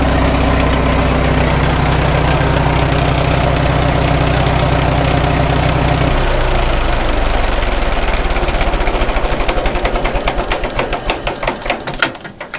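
A 1936 Caterpillar Twenty-Two tractor engine idles loud and close with a steady, lumpy mechanical knock, then its low rumble slackens and the firing pulses grow uneven and fade as it runs down near the end.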